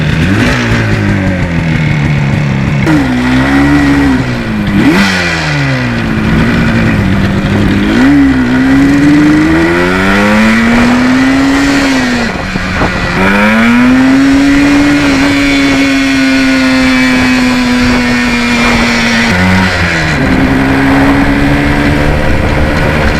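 Yamaha RD400 two-stroke motorcycle ridden on an open road, loud and close, its engine note climbing through repeated gear changes, dropping at each shift and then holding a steady drone at cruising speed.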